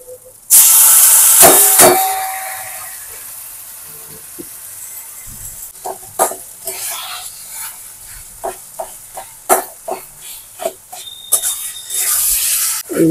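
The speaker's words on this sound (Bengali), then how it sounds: "এবার কচু শাকটা দিয়ে দিচ্ছি।" Taro leaves (kochu saag) hitting a hot pan, a loud sudden hiss of sizzling that fades into softer crackles, scrapes and stirring clatter, close up.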